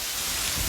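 Heavy rain driven by wind in the Pantanal, a dense continuous roaring wash with no distinct drops, loud and close for a brief moment.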